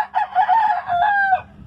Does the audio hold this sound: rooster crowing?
yes